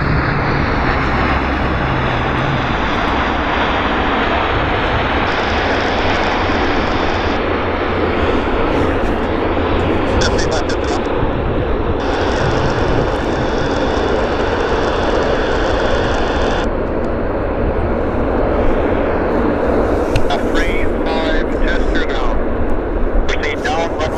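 An airliner's engines roar steadily at Vancouver YVR airport, a loud, sustained jet rumble with shifting whine, overlaid by radio chatter and talking voices.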